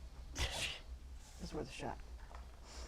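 A single sharp sneeze bursts out near the start at a tabletop role-playing game session, followed by people talking.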